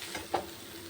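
Papaya ghonto cooking in a pan with salt and turmeric, giving a soft, faint sizzle and a single brief scrape of a spoon, heard close with no voices.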